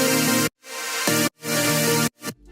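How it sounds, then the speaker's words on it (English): A Serum synth mid patch with a square-wave second oscillator plays sustained buzzy chords, three loud held stabs separated by brief silences, with no one talking. "It has a square wave instead of a saw wave for the second oscillator, and it sounds like this."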